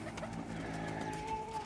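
Pigeons coo softly in a loft of flying birds in Lahore, a low, murmuring warble repeating over a faint background hum, with no talk.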